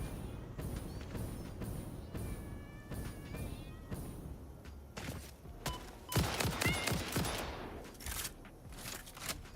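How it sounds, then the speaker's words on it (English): Rapid gunfire bursts from the Satisfactory video game crackle alone in repeated volleys, growing louder and denser toward the end, with buzzing insect-like game creature sounds layered underneath. "How is he shooting me from inside the cliff?"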